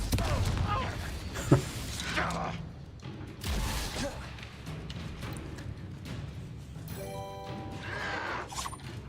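Confringo blasting spell from the Hogwarts Legacy video game, a loud burst that bursts out in a sharp impact followed by crackling debris and whooshes, layered with game music and effects.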